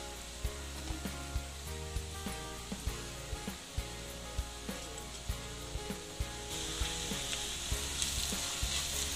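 Onions with dry masala fry for a Sambalpuri mutton and potato curry, giving a steady close sizzle broken by regular scraping stirs, and the frying grows a little louder near the end. Nobody speaks.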